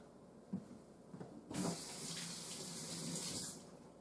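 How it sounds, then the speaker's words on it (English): Tap water runs steadily for about two seconds while hands are rinsed off in a kitchen during tamale making, following a few soft handling clunks, then it is shut off. "Sorry, I rinse that off before I go touching everything else."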